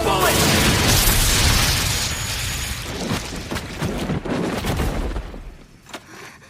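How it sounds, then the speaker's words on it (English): Anime gunfire from a magical gun firing a full bullet: a loud, sustained burst of blasts and booming explosion, rolling on and gradually thinning out into scattered pops and rumble. "Let's take him out in one shot! Fire full bullet!"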